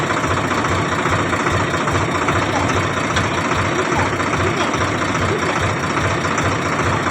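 A steady, loud tractor engine idling nearby with a continuous rumbling chug that holds unchanged throughout, while a rotavator is being attached.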